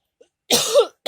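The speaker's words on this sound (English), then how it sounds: "I'm just coughing all the time." A single harsh, rasping cough from a person, preceded by a tiny click and followed by the start of a second cough, close to the microphone in a quiet room.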